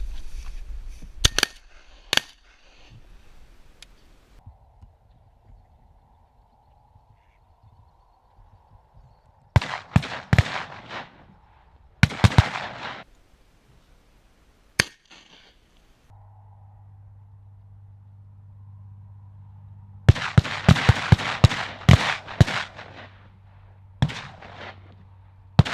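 Shotguns fired while hunting ducks and geese in Alberta: loud sharp blasts come in scattered clusters, with several quick volleys separated by quiet stretches and a low engine-like hum in places.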